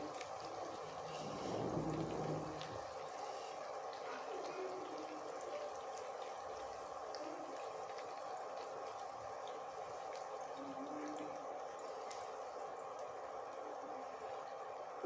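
Sabudana luchi deep-frying in hot oil, a steady continuous sizzle and bubbling held at an even level throughout, with a slightly louder burst near the start.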